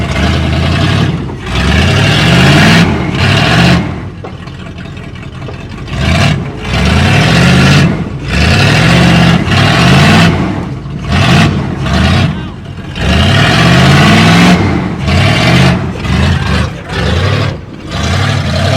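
Cadillac V8 race car engine in the pits at a Welland oval race, loud and close, revving in repeated surges with brief drops between blips.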